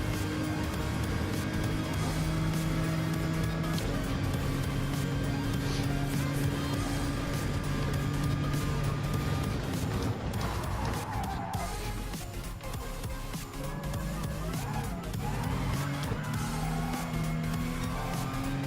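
Race cars in Gran Turismo Sport during a Le Mans endurance race produce a continuous, loud engine drone with shifting pitch that dips briefly midway and then swells again, with no voices over it.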